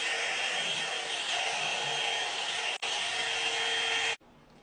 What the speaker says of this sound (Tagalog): So, hair dryer pala to at hairstylist na din.